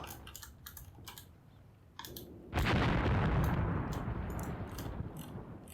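Artillery shell blasts in the wargame Graviteam Tactics, a loud sudden boom rumbling and decaying over a few seconds, preceded by soft clicking keyboard typing.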